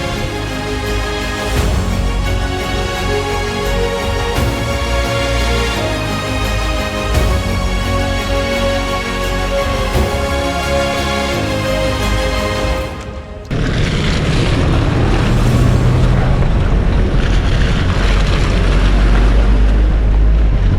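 Strong wind blows across an exposed stretch of the Heart of Wales Line Trail between Bucknell and Knighton. The loud, constant roar and buffeting grow even heavier and rougher in the latter part, with no talk.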